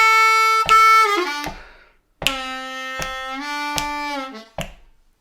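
A G harmonica plays a short lick of bright, reedy sustained notes, with bent notes sliding downward, clear breathy attacks, a brief pause midway and a final short note, close and loud.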